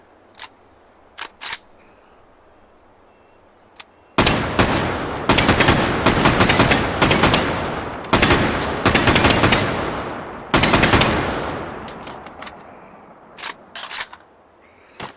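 FAL .308 battle rifle fired in the H3VR VR shooter: sharp semi-auto shots with loud bursts of rapid fire in several strings, separated by brief pauses and handling clicks, with no talking.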